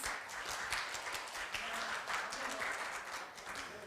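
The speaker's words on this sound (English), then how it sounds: "Why don't you give another big round of applause to celebrate this moment?" An audience applauds at the Indonesia–Korea CEPA trade agreement signing ceremony, producing steady, moderately distant clapping throughout that stays fairly quiet in the room.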